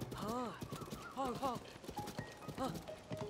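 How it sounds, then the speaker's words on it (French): Horse hooves in the game Zelda: Tears of the Kingdom, a quick run of clip-clop beats with a neigh, heard under someone talking and background game music. "Oh là là, il est trop farouche, ce cheval."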